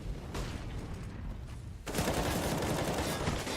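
Rapid gunfire from a professional CS:GO match, Virtus Pro vs GODSENT at ECS Season 5, with dense overlapping shots building into a louder, sustained barrage in the second half.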